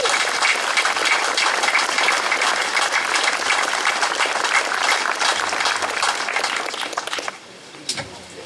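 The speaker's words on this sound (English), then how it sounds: "We have a nice warm round of applause for Tim Chambers." A crowd at a 9/11 memorial service for a motorcycle ride gives a dense, steady round of applause for about seven seconds, then it quickly dies away to scattered noise.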